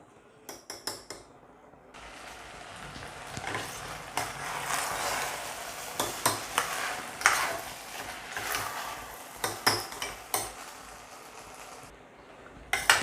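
Rice for mutton biryani is roasted in a pressure cooker, with a metal spoon repeatedly scraping and clanking against the pot in uneven strokes over a soft, faint sizzle.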